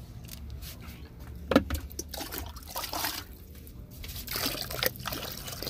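Water running into a bathtub while a cat is bathed, a steady close trickle and splash with brief louder sloshes and drips, continuous throughout.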